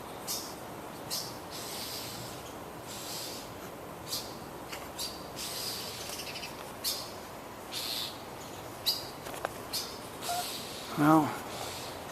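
Small bird screaming outside near a window, with repeated short harsh calls spread across a noisy outdoor background and a louder burst near the end; people talk at times.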